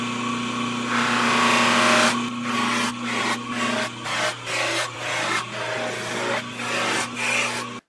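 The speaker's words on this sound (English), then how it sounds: "now that I've started buffing all of the other parts" Drum set parts being buffed: a steady motor hum under loud, close, broadband rubbing noise that surges and dips in repeated passes, with no talking.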